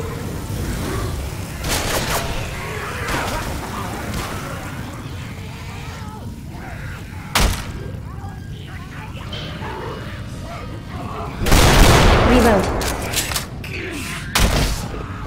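A grenade blast in Left 4 Dead 2 on the State of São Paulo custom map: a loud, sudden explosion amid scattered gunshots and thuds, with players talking over the action throughout.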